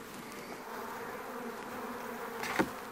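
Agitated honeybees buzz in a dense, steady drone around an opened beehive brood box, with a brief louder surge as one passes close near the end.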